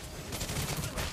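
Rapid, dense bursts of gunfire from Clint, a marksman hero in the Mobile Legends mobile game, form a continuous loud fusillade with no gaps.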